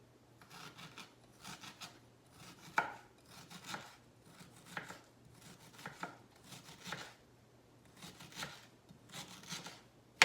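A knife chops peeled ginger finely on a cutting board, the blade striking in quick irregular bursts of soft taps and scrapes, quiet and close, with no talking.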